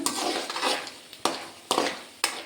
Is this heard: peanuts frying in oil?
yes